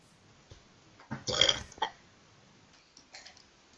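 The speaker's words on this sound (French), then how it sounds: "T'as roté là." A single loud, raspy burp lasting about half a second, close up, followed by a brief fainter grunt and quiet background noise.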